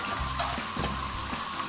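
Chicken frying over a high flame for biryani, a steady close sizzle with faint crackles running throughout, no voices.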